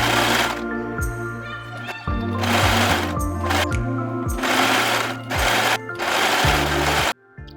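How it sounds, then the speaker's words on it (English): Serger overlock machine stitching the side seams of a spaghetti strap dress with nylon thread, whirring loudly in several fast runs broken by brief stops and restarts. "I use my serger with my nylon thread to stitch both side seams"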